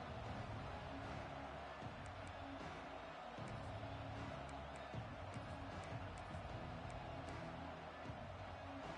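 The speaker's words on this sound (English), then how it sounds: "This crowd ready to make its presence known." A football stadium crowd at a Texas at Tennessee game roars in a steady, dense wall of cheering that runs unbroken throughout, with no clear individual voices standing out.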